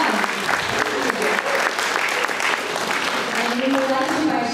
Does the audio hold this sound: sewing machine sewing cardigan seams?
no